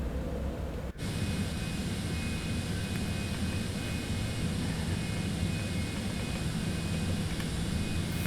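Steady, loud broadband roar of a Citation X business jet in flight after an approach over the Andes, heard from inside as a constant cabin drone with a brief dip near the start.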